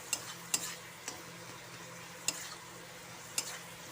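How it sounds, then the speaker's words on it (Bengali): Spice masala for jackfruit curry fries in a pan with a soft continuous sizzle, broken by a few sharp spoon taps and scrapes, quiet and close. "ভালো করে মিক্স করে মশলাটাকে কষিয়ে নেব।"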